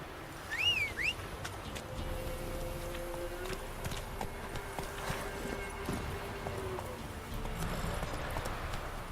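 A horse gallops in The Witcher 3: Wild Hunt video game, its hooves clip-clopping in a steady rhythm under faint background sounds, with a brief whistle near the start.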